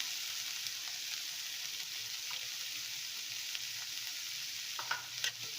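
Chana dal sundal is stirred in a pan, a faint, even sizzle with soft scrapes and a few light clinks near the end, and no one speaking.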